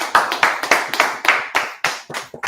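A class claps at the end of a lesson, a small group giving about a dozen sharp, uneven claps in quick succession, close and fairly loud.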